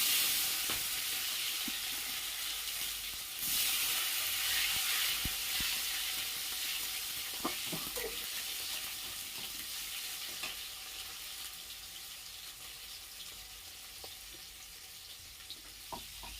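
Tomato frying in hot oil spiced with a pinch of asafoetida, sizzling steadily with a bright hiss, a louder splash of sizzle as it goes in, and scattered scraping stirs and small clinks throughout.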